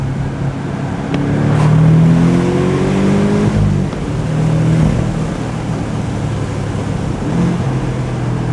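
A Porsche 718 Boxster GTS's mid-mounted four-cylinder engine revs and pulls with rising pitch, a steady loud drone heard from inside, easing off and then building again.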